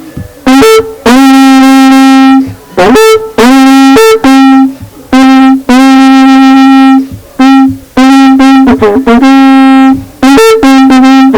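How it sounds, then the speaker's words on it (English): A traditional Luo horn, the oporo, sounds loud, close-up, sustained buzzy tones in short repeated blasts separated by brief pauses, with occasional sliding notes between phrases. "From that sound, this horn is crying."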